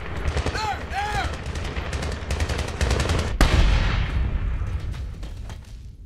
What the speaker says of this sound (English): You hear that? It's an AK fire.